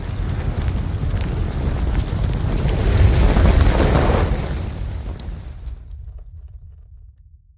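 Tank-firing explosion sound effect played on a sports radio show, a loud, rumbling boom that builds over a few seconds, rolls on like a long blast and fades out into silence.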